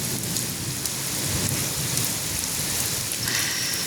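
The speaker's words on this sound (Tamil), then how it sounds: "இடி மின்னல் மழை, தண்ணி விழுகுதா" Steady heavy rain pours down during a nighttime thunderstorm, a dense, even hiss that fills the whole clip, with no voices heard.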